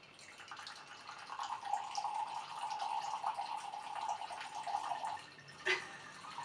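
Wine poured into a glass, a soft, faint trickle of liquid lasting several seconds before a small clink at the end.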